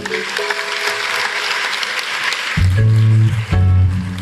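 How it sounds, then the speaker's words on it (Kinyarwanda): Applause fills a church service, a steady patter of many hands that carries on as loud instrumental music with deep sustained tones enters partway through. "reka duhe Imana amashyi noneho"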